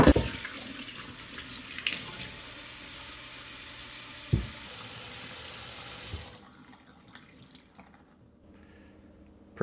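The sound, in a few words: water draining down a kitchen sink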